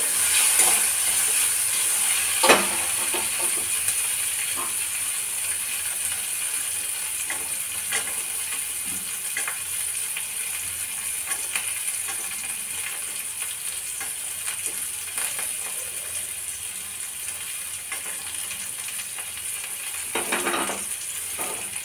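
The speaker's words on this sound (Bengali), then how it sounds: "এখানে আমি এখন মটরশুঁটিগুলোকে অ্যাড করে দেবো" Green peas tipped into a pan of vegetables already frying for vegetable pasta, giving a steady close sizzle with occasional stirring scrapes and a brief louder burst near the start.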